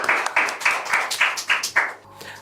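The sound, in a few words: audience applause welcoming a poet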